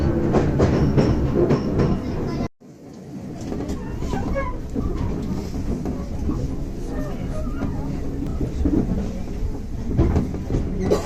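A train runs on rails with a loud, steady rumble and rattling clatter, cut by a brief dropout, then continuing close by, with faint voices in the background.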